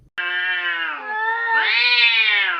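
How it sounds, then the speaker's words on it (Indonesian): A domestic cat gives one long, loud, drawn-out meow that rises and bends in pitch, close by and alone with no other sound. "Awas kucing, ih."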